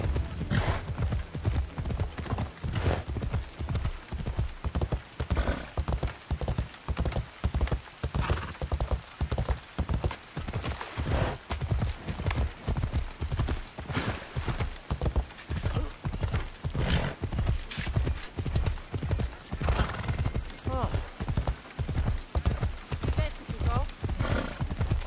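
Galloping horse hooves in Assassin's Creed Odyssey, a steady rapid clip-clop rhythm pounding close and loud for the whole stretch, with an occasional whinny and voices talking over the ride.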